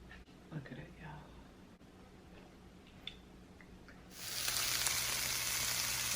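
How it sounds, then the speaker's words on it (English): Chicken and vegetables stir-frying in a pan; a steady sizzle swells loud in the last two seconds, with faint clinks and quieter sizzling before it under soft talk. "so I'm doing another stir fry"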